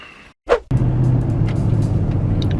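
Inside a moving car, a steady low road and engine rumble starts abruptly after a brief gap and continues evenly, with a few faint clicks on top.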